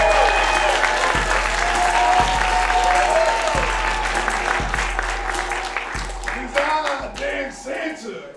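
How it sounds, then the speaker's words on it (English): A stadium crowd applauds as a figure called Dean Santa takes the center of the field, broad sustained clapping over pulsing music with a thumping beat, fading slightly toward the end while voices rise. "Dean Santa enters the center of the field to great applause"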